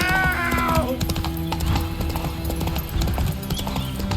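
Horse in The Witcher 3 galloping, with a brief whinny at the start and then rapid, rhythmic hoofbeats close up under ambient game sound.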